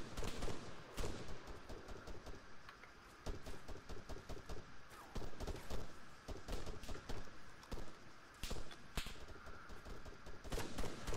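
Gunfire in ARMA III: a steady stream of sharp shots, some close and punchy, others fainter and farther off, cracking in uneven bursts and single pops with no talk.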